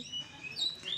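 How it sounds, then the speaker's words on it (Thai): Small birds chirp and tweet in quick, high bursts over a soft background hiss, fairly close and moderately loud. "ฟังเสียงนกร้องไปด้วย"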